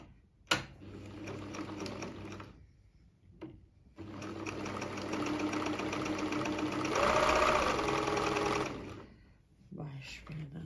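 A Pfaff Synchrotronic 1229 sewing machine stitching, running in bursts: a short start, a pause, then a long steady whirring run that grows louder before stopping. A voice is heard around the runs.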